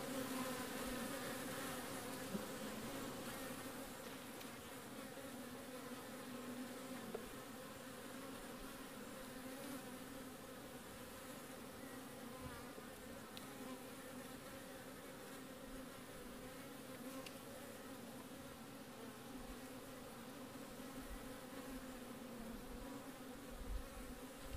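Honey bees in a nucleus hive with developing brood, ripening queen cells and nurse bees make a dense, steady buzzing drone that fills the whole stretch at low, even loudness.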